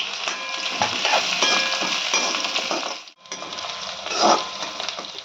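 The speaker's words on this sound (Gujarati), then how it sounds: "ડુંગળી થોડી લાઇટ બ્રાઉન થાય ત્યાં સુધી આપણે એને થવા દઈશું" Onions sizzle and crackle steadily in a hot pan for vegetable pulao, a dense frying hiss with occasional stirring scrapes and a brief dip partway through.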